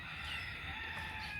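Chickens clucking and a rooster crowing somewhere in a home garden, faint and distant, heard alone against a steady background hum.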